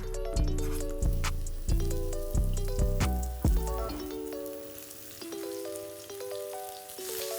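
Schnitzel sizzles and fries in a pan with smashed skin-on garlic cloves, a steady close crackle with a run of rhythmic clacks and taps in the first few seconds, then softer continuous frying.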